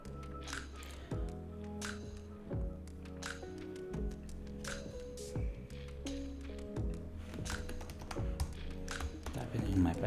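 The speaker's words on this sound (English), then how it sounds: "Typing in my password here, remembering it so that I won't need to type it again." Computer keyboard keys tapped in quick irregular bursts while a password is entered, close and clear, over a steady low hum with a voice talking at times.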